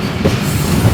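A train pulls into Bhanga railway station on the Faridpur line, a loud, close, continuous low rumble of rolling wagons with faint rail clatter.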